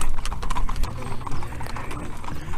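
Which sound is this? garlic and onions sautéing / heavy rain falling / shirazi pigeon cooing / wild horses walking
wild horses walking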